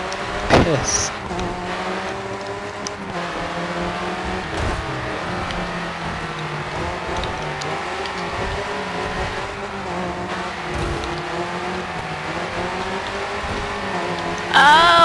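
A race car engine in the racing game Grid 2 drones and revs steadily at high pitch for the whole stretch, loud and continuous, with brief bursts of tire and impact noise near the start and end.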